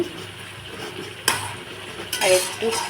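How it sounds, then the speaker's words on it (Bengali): Meat being stir-fried (bhuna) in a pan, with a soft background sizzle broken by two sharp scrapes and clinks of a utensil against the metal pan. "এরকম মাংস কষানো হয়ে গেছে"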